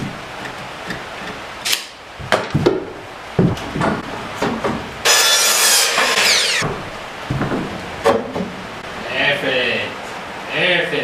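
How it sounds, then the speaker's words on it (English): A saw trimming a wooden border in a workshop, with a loud sustained cutting burst lasting a couple of seconds between knocks, handling clatter and people talking. "So we're going to use the saw"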